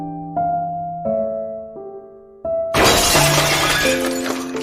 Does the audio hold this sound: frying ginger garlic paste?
no